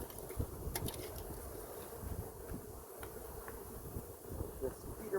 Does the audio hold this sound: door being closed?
no